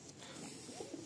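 Madrasi pigeons give soft low cooing calls, a short continuous murmur heard up close with no talk.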